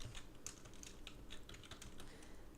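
Quiet, rapid keystrokes on a computer keyboard as C++ code is typed, a close, steady run of light clicks with no talking.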